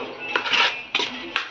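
Spoon mixing curd and lemon juice in a bowl, giving a few bright metallic scrapes and three sharp clinks against the bowl, close and clear.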